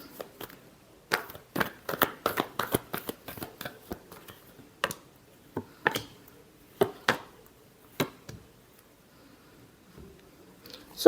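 A deck of tarot cards is shuffled close by, making soft, quick riffling pats in a brisk cluster, then slower scattered flicks, with no one speaking.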